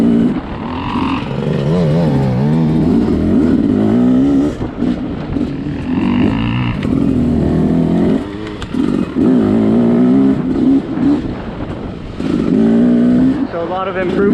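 A 2020 Beta 300 RR dirt bike with a counterbalanced engine is ridden, its loud engine droning and revving continuously, the pitch rising and falling with the throttle.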